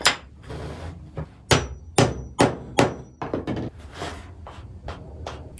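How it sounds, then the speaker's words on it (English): Metal clamps being turned and locked down on a walnut workpiece on an Onefinity CNC machine table, giving a series of sharp, close knocks and clacks, some spaced apart and some in quick clusters. "these clamps just turn like that to lock it in place"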